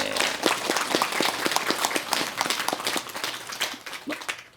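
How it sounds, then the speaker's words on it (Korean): An audience at a lecture on Korean Buddhist legends claps briefly, individual hand claps audible within a lively but thin burst that tapers off toward the end. "박수부터 합니다."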